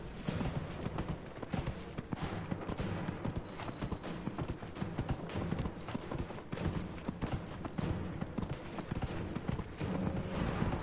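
Rapid hoofbeats of a galloping horse in a video game, Dragon Age: Inquisition, pound on without a break, loud and close, with a busy clatter and a faint whinny now and then.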